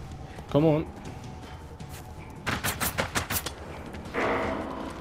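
Gunfire in Generation Zero comes in a quick cluster of sharp shots midway through. A voice talks briefly before and after the shots, and the overall level stays moderate.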